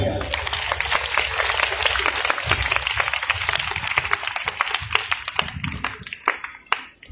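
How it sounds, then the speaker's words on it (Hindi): Audience applause for the Markaz Umeed team at a Cure Pakistan Welfare charity gala, steady dense clapping throughout with a speaking voice and some low background sound mixed in. "मरकज़ उम्मीद की पूरी टीम के लिए भरपूर तालियां।"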